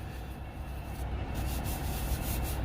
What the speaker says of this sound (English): got my Clorox wipes out. I'm wiping down the steering wheel right now